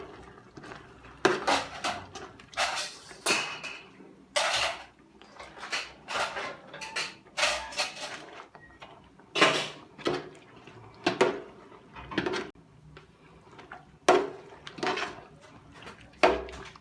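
Beef tripe kare-kare is stirred in a cooking pot, a utensil scraping and clanking against the metal in irregular bursts, close and fairly clear over a quiet background.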